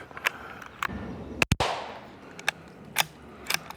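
A 22 Magnum rifle fired over a chronograph outdoors gives one sharp, loud crack with a brief decaying ring, surrounded by several fainter clicks and snaps.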